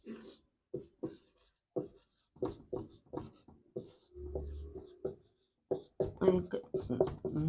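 Marker or chalk strokes on a classroom board during a child development lesson, a series of short scratchy bursts at a steady writing pace, close and moderately loud, with a voice speaking in between.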